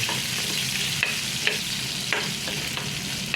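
Garlic and ginger fry in oil for chicken curry, giving a close, steady crackling sizzle with small spatters and light scraping stirs, with no voices.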